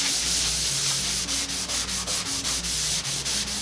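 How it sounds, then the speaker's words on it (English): Cloth rubbing excess wood stain off a laser-cut wooden door hanger, a close, steady scrubbing with quick rhythmic back-and-forth strokes. "Getting all that excess stain off."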